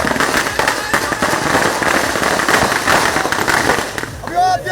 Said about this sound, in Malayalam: പടക്കം പൊട്ടിച്ച് ആഘോഷമായി വരവേൽപ്പ്.